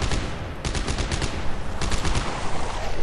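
Rapid bursts of gunfire from weapons in the sci-fi survival horror game Dead Space 3, a dense, continuous rattle of shots with sharper volleys near the start and middle, loud and close with no talking.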